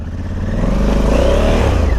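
An Africa Twin Adventure Sport motorcycle powers through soft mud on Salisbury Plain, its engine droning loud and close with a steady throttle that swells slightly, alone without voices.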